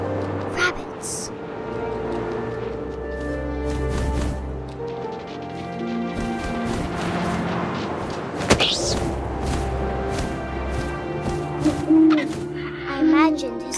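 An owl hoots in the game What Remains of Edith Finch, mixed into a busy game soundtrack with wind, music and a voice narrating over it. The hoots come in a few separate calls and sit partly masked by the other sounds.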